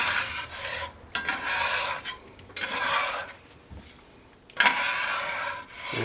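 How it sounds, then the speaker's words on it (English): Meat residue is scraped off the bottom of a beef stew pot after an onion goes in, heard as a run of close, raspy scraping strokes in uneven bursts with short pauses and no voices. "we're going to scrape all the meat residue off the bottom"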